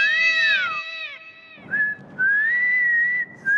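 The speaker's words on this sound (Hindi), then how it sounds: "आप ये सीटी वीटी ना मारी है?" A person whistles a sustained, wavering tune in a comedy scene, the notes sliding up and down in two phrases with a short break between, close and fairly loud.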